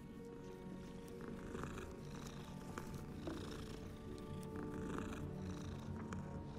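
A cat in the Hogwarts Legacy video game purrs steadily while being petted, a soft continuous rumble held at an even level throughout, with a faint game backdrop and no talking.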